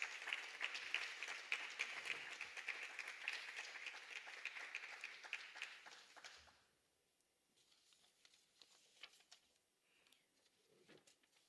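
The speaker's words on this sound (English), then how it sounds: "Let's give them a round of applause" Audience applause at a regional top awards ceremony, dense steady clapping for about six seconds before it drops to a few scattered claps in a quiet room.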